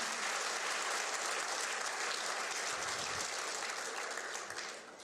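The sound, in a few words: applause for the word of the Lord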